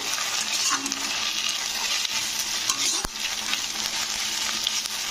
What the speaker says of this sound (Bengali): তো দিয়ে এটাকে এবারে কিন্তু একটু নাড়াচাড়া করতে হবে।